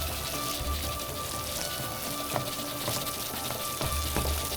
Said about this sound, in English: Okay, we're frying this.